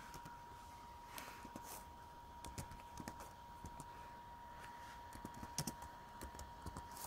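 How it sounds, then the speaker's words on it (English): Slow, uneven keystrokes come from a Dell Inspiron 1464 laptop keyboard as one hand types, with faint scattered clicks over a steady low hum. "I'm writing typing with one hand, so excuse the slow typing here"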